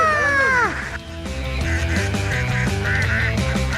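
A flock of ducks being herded quacks loudly and continuously, many overlapping calls close by, with a brief higher cry at the start.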